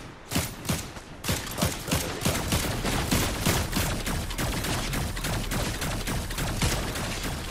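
Gunfire in the Fortnite video game, rapid repeated shots in quick succession, loud and close, a sustained volley of bursts with no talk over it.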